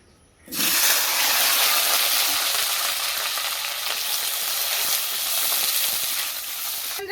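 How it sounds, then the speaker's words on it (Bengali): Potatoes fry in hot oil in a kadai with a steady, loud sizzle and hiss that starts abruptly and holds through the whole stretch, with no talking. "আলুটা কিন্তু আমি প্রথমে ভেজে নেবো, আমি কিন্তু কিছু দিচ্ছি না, এমনিতেই লাল লাল করে ভেজে নেবো।"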